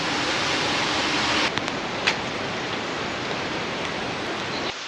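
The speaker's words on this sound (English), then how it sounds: "we've been hearing the rain hammering down" Steady rain pouring down in the wintry Swiss Alps, a dense, even hiss filling the scene with a few brief louder splashes, close and continuous with no voices.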